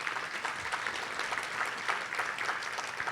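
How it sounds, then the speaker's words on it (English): Audience at a Goodwill awards breakfast applauding the honorees, a steady, moderately distant wash of many hands clapping continuously throughout. "Let's give them another round of applause."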